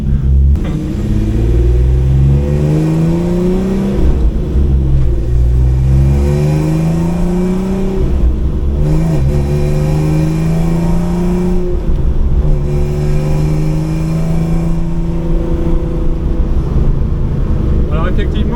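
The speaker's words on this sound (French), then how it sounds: "À la longue, l'échappement est bruyant" Ford Sierra XR4i V6 rally car engine and exhaust, loud and close from inside, rumbling and revving up and down through repeated gear changes over a continuous drone.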